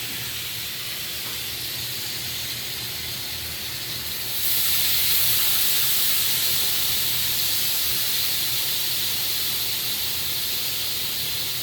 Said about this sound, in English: we have a hot skillet over here, and we're going to put the steaks in the skillet